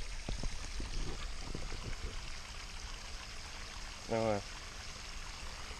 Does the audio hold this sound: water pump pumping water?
yes